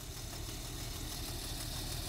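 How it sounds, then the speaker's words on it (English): Idling engine of a 2004 Jeep Liberty Renegade with suspected timing chain slap, a steady low rumble with a faint rattling texture, close and continuous with no talk. "Just leave it idling because it's not clicking, but I'm pretty sure that it's a timing chain."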